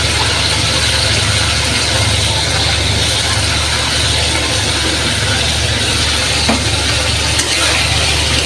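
Tomatoes frying in hot oil in a pan: a steady, dense sizzle held at an even level throughout, close and fairly loud, with a low hum underneath and no break.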